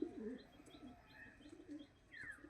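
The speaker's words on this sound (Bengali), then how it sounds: "এগুলো পাঞ্জাবি পায়রা সব, পাঞ্জাবি মালবাই" Punjabi Malbai pigeons coo softly in low, rolling murmurs with a few faint chirps, nearby but quiet, with no talking.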